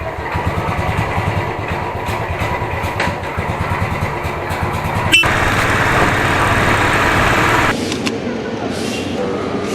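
A motorcycle engine runs at the start of a ride from Kalyan toward Pune, a close, steady low throb that idles and then rises in a louder burst mid-way before settling again.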